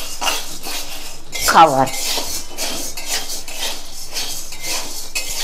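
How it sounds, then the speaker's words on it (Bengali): Sago pearls being stirred in a hot wok rattle and scrape steadily against the metal, with one louder clatter of the utensil partway through and a brief word spoken over it. "আমি সাবুগুলো নাড়াচাড়া করছি।"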